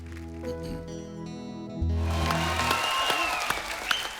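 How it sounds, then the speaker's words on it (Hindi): On a Hindi TV comedy talk show, a musical passage gives way to a burst of studio audience applause that continues at a steady, fairly loud level to the end. "इनका भी दिल कर रहा है खड़े होकर ताली बजाने को।"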